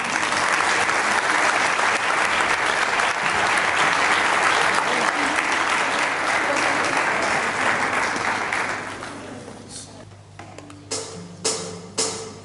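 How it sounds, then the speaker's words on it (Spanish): Loud crowd applause fills a rock concert hall at an end-of-year student show, sustained clapping and cheering for about nine seconds before thinning out into a few scattered claps and quieter room sound. "Un fuerte aplauso."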